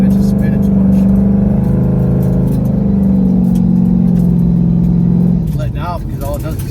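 A car on drag radials spins its wheels at a street meet, the engine holding a loud, steady high-revving drone close by before easing off near the end, with people talking over it.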